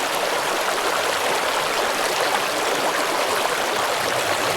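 A river at a campsite in Antipolo flows steadily, a loud, continuous rushing of water that fills the whole stretch with no pauses or voices.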